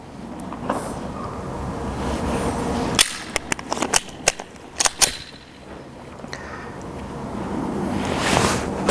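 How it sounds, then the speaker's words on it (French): Glock pistol fired in rapid succession during speed shooting, a quick burst of sharp cracks, somewhat distant, over steady outdoor wind rumble. "Donc tir de vitesse Glock."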